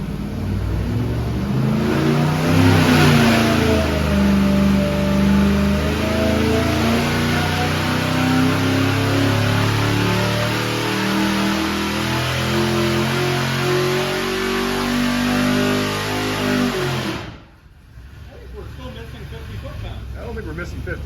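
A car engine revs hard and steadily under test for about seventeen seconds, loud and close, its pitch climbing and wavering, then cuts off abruptly, leaving quiet with faint voices.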